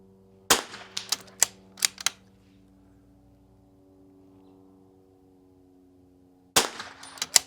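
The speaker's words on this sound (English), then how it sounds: "I'm gonna try to shoot the small target again" Sharp rifle shots at an NRL22 rimfire match course aimed at a small target: a quick string of five cracks, a long pause with steady low hum, then another cluster of sharp reports near the end.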